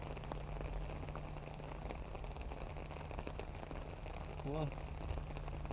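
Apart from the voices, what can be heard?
rain falling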